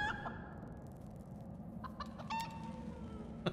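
A chicken familiar clucks in the Wrath of the Righteous video game, giving a few short, fairly faint clucks over a steady background hum.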